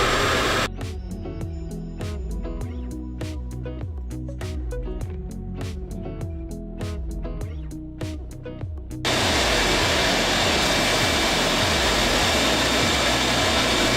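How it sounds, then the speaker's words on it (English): A bandsaw cuts vinyl sunshade handles, giving a steady machine whine with rapid rhythmic ticking for about nine seconds, then shifting into a louder, broader continuous roar until the end. Close and loud, with no voices. "time to cut out the handles on the bandsaw. And because it's all vinyl,"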